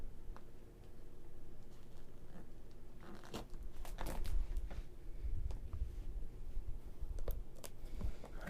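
Cheap scissors cutting through packaging during a vintage clothing unboxing, close crisp snips and crunchy rustling of plastic or paper in scattered bursts, no talk.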